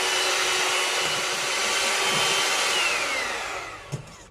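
An electric mixer whisks egg whites with cream of tartar until frothy for a castella cake, a loud, steady close whirring drone that dips slightly and ends with a small knock.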